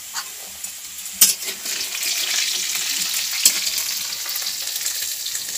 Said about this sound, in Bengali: আলুটা ভাজা হয়ে গেছে মোটামুটি